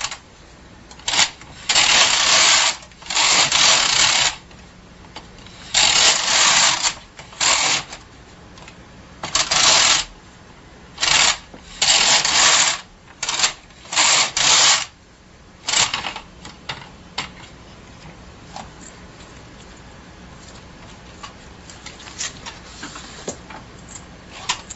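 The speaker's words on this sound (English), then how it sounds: "I'll just knit a few rows, take it off the machine" A Bond knitting machine knits several rows of plaid. The carriage makes repeated loud, rasping sweeps, each a second or two long, separated by short pauses, and then quiet settles in at the end.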